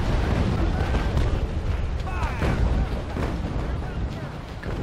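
Carronade cannon fire from a naval brig in the game Naval Action Legends, a dense, rumbling series of booms with crackling bursts, loud and continuous under faint background game noise.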